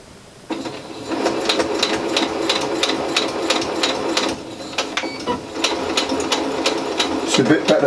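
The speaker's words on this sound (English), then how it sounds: "These are the two face pieces, so we're going to sew that around the curve as well." Sewing machine stitching face mask pieces around a curve, a steady rapid rhythmic needle clatter running continuously after a short start, fairly close and loud.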